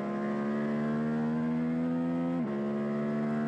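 A racing SV650 motorcycle drones close by on track at a steady high engine pitch, then the note dips abruptly as the rider shifts or eases off, settling back to a constant roar.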